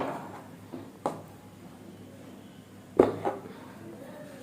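A knife chops the tops off okra (ladies finger) on a cutting board, giving a few sharp, separate taps spaced seconds apart in a quiet kitchen.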